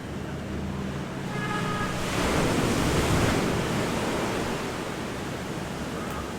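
Sea waves wash onto the shore in the Dominican Republic, a steady broad rushing roar that swells in the middle, with wind in the microphone and a faint hum at the start.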